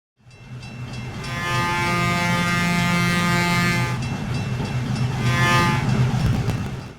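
A Pennsylvania Railroad S1 steam locomotive in Train Simulator rumbles steadily along the track, with a long sustained whistle blast, a brief break, then a second whistle over the running noise.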